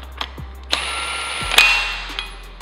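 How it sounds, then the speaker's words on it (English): A hand ratchet clicks in short bursts while snugging down a new camshaft bolt on a Gen V LT L83/L86 engine, with a few metallic clanks and taps between strokes over a low steady hum. "and just tighten down a bit"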